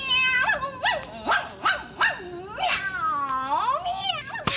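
A cat meows repeatedly and insistently, about eight drawn-out calls in quick succession, close and clear in a quiet indoor scene, the last meow long and wavering.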